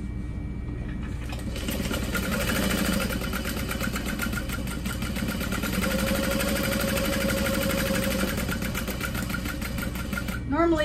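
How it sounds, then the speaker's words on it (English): A sewing machine basting fabric in place on a crossbody bag runs in one steady, rapid mechanical stitching burst up close before stopping near the end. "I'm gonna baste it in place."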